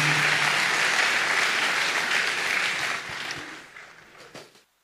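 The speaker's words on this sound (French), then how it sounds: "Clap for Jesus." Congregation applauding at a church service, a dense, loud burst of many hands clapping together that gradually thins out and fades to silence near the end.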